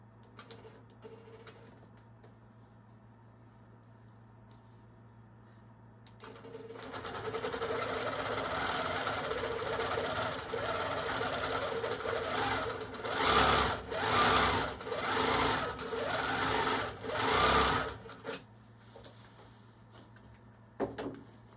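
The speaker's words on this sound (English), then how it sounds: "let's try stitching again, and then we'll decide what's happening." A Handi Quilter longarm quilting machine starts up after a faint background hum and stitches steadily for about eleven seconds, with rhythmic pulsing surges, then stops; no one talks.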